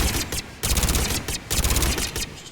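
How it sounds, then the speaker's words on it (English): SMG fire in Mass Effect 3 comes as three rapid, loud automatic bursts, each a rattling string of close shots separated by short gaps. "Interesting recoil on that SMG."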